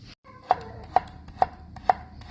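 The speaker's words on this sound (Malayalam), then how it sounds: "ടൊമാറ്റോയുടെ എണ്ണ ഊറ്റിക്കളഞ്ഞേച്ച് അത് ചെറുതാക്കി അരിയുന്നതാണ് പാസ്തക്കകത്തിടാൻ" A knife chops drained, oil-packed tomatoes into small pieces on a board for Tuscan chicken pasta, giving five evenly spaced, crisp knocks about half a second apart, close and clear over a quiet kitchen background.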